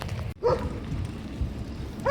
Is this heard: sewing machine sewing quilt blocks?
no